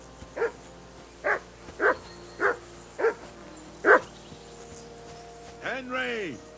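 Dog barking in the medieval video game Kingdom Come: Deliverance II, six evenly spaced sharp barks at moderate distance followed by a drawn-out whining yelp, over a quiet ambient background.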